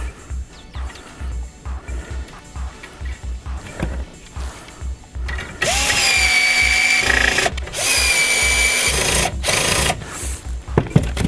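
A power tool tightens a Teflon nut on a Daewoo DAST 7565 petrol snowthrower during assembly, giving two loud whirring bursts of a few seconds each after quieter tapping and handling noises.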